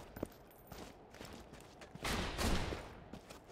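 Gunfire in the video game Borderlands 2, a scattered run of shots with a louder burst in the middle, heard at moderate level through game noise.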